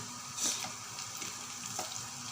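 Onions and turmeric fry quietly in a pan, giving a soft, even sizzle with a few faint stirring scrapes, heard at a low level with no voices.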